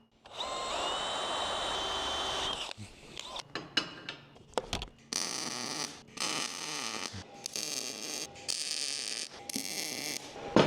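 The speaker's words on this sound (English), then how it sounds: "I'm gonna drill them at the same time" A power drill whirs in a long burst through two clamped pieces at once, then in a series of shorter, stop-start bursts with brief clicks and pauses between them.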